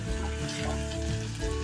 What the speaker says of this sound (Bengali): পরিমাণ মতো পেঁয়াজ কুচি নিয়ে নিতে হবে গরম তেলে, তারপর একটু নাড়াচাড়া করতে হবে